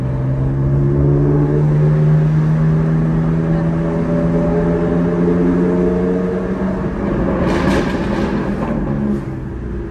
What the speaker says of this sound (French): cette voiture-là, elle a un son qui est vraiment très beau